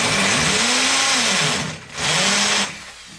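An electric drill bores the first hole for invisible shelf brackets, whining loudly for about a second and a half, stopping briefly, then running again for a short burst before cutting out. Nobody talks.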